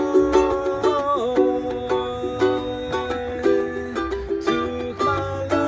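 Ukulele strumming chords from a song, several sustained strums in steady rhythm that shift between chord shapes, played close and clear with no voice.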